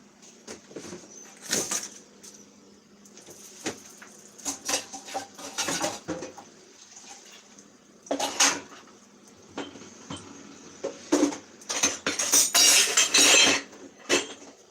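Dishes, pots and cutlery clatter in bursts as a kitchen is tidied during breakfast preparation, with scattered clinks and scrapes, some sharp and close, between quieter pauses.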